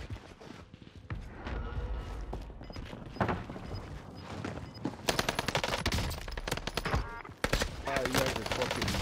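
M13 rifle gunfire in Call of Duty Warzone, rapid bursts of close shots crackling and cutting in and out over several seconds among other distant fire and game noise.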